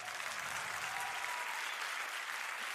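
A live studio audience at an Arabic poetry show claps steadily and loudly for a poem, a dense, continuous applause that fills the whole moment with no voices over it.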